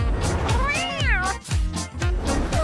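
A pet cat meows up close, a few short and drawn-out mews with a rising and falling whine, one longer cry in the middle, set against light background noise.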